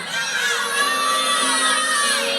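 A packed college gymnastics arena roars with high-pitched shouting and cheering while the crowd waits for the judges' score at a Kentucky vs Florida women's meet. The sustained roar swells loudly, then cuts off sharply.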